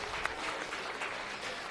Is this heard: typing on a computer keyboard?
no